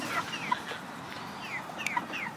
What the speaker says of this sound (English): Here are chickens.